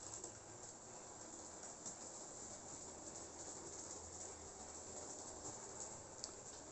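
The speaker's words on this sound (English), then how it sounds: "You can hear that it's a very quiet locomotive." A Jouef HO-scale model of the French SNCF 040 TA heavy 0-8-0 tank shunter runs steadily along its track with a soft, even hum and faint clicking, quiet and continuous throughout.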